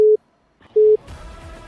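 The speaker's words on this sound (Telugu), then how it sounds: "The number you have dialed is currently busy." A phone line busy tone sounds as two short identical beeps separated by a gap, loud and clean, followed by faint line noise.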